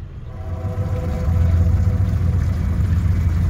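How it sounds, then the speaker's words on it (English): A passing train rumbles near a river lock, a low steady rolling drone that swells and stays loud, heard from a shanty boat in the lock chamber. "You better like the sound of trains if you live in this part of the world, because they're everywhere and all the time."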